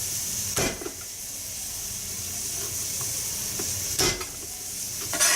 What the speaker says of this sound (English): cloves of garlic here I want to add to my sauteing onions